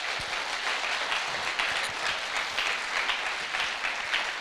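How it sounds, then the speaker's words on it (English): Audience applause at a campus presentation, a steady dense wash of clapping from a large crowd that holds loud and even throughout with no talking. "Yeah, you can give a round of applause."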